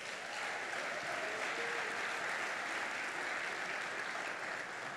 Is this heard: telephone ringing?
no